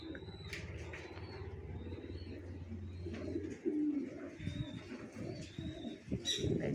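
Racing pigeons coo softly while eating grain feed such as corn, millet and lentils, with repeated low coos and a few brief chirps over a faint steady hum, fairly near.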